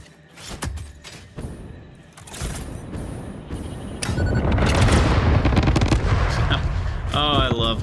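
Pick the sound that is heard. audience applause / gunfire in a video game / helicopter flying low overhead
gunfire in a video game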